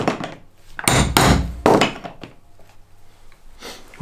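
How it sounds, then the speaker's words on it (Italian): A hand hole punch is hammered through leather while making a bushcraft pouch: a few heavy, close thuds and sharp strikes clustered in the first two seconds, then quieter tapping and handling noise on a workbench. "Adesso sto facendo dei fori con una fustella a mano"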